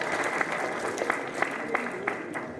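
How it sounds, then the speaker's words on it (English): An audience at a public safety town hall meeting claps steadily, a dense wash of applause with a few sharper individual claps standing out. "Y'all gonna clap for that."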